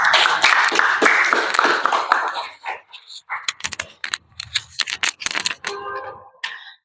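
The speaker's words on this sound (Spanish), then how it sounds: "Palmas, por favor." At a Spanish-language book presentation, the audience gives a burst of dense, close clapping that lasts a couple of seconds, then thins into scattered, separate claps and small noises before fading out.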